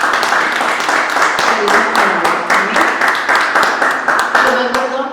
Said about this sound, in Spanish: Vamos a darle un aplauso al Señor por esa palabra.